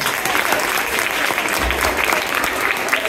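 A crowd at a school food festival breaks into dense, steady applause, many hands clapping together loudly and continuously for a few seconds.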